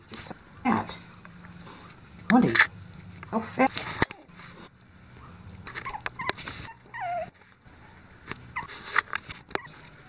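Puppies whimper and yip close by in short, whiny bursts, mixed with a person's talk and light pattering.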